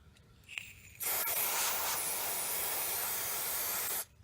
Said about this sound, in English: a good spray with a brake cleaner